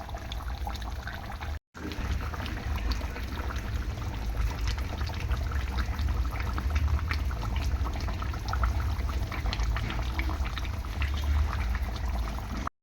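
Yogurt chicken with spices simmers in a pot, giving a steady, close bubbling and gurgling that runs unbroken after a brief dropout near the start, with no voices.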